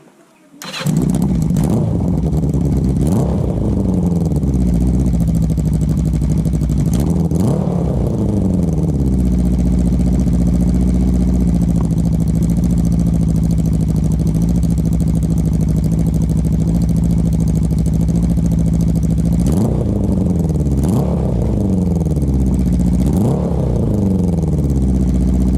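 A Yamaha XJ650 motorcycle engine runs just after carburettor tuning and a plug change to BP7ES. It starts up, then idles loud and close with several sharp revs blipping above the steady idle throughout.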